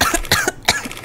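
Short coughs from the video game Papers, Please, several quick bursts in succession, close and fairly clear.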